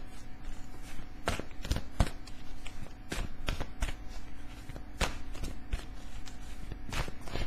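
Tarot cards being shuffled by hand, producing a run of crisp riffling bursts and soft slaps at irregular intervals, close and fairly quiet, with no talking over them.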